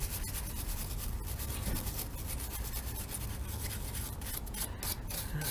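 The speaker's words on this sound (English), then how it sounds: "Just a good brushing, make sure we get rid of any loose paint as well as the corrosion." A small wire brush scrubs corrosion and flaking paint from a KTM Duke 125 brake caliper, producing continuous close scratchy rubbing with rapid short strokes and faint ticks of bristles.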